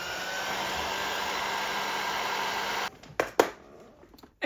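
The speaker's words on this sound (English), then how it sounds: "And get the heat gun on it." A heat gun blows a steady, loud rushing stream of hot air onto heat-shrink tubing over chassis wiring for about three seconds, then cuts off, leaving a few short clicks and handling knocks.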